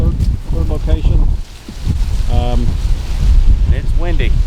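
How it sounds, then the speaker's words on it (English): Strong outdoor wind buffets the microphone on farmland, a loud, steady low rumble that roars throughout while people talk over it. "It's windy. And it is very windy."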